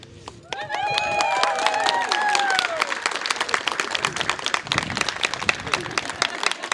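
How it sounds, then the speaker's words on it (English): Wedding guests at Kauri Bay Boomrock clap for the newlyweds just after they are pronounced husband and wife. Dense, lively applause swells after a quiet start and carries on steadily while voices call out over it. "Keep that applause going"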